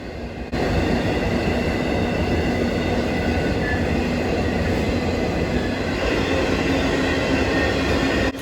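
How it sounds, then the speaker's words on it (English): A CN freight train rolls past north of Iron Junction on the way to the Largo mines, a loud, steady rumble of wheels and cars with faint tonal squeal and no talking. "We chase this train north of Iron Junction, where it is now on the final leg of its journey to the Largo mines."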